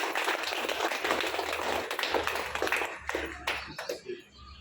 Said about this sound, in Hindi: जोरदार ताली हो जाए अगेन प्लीज।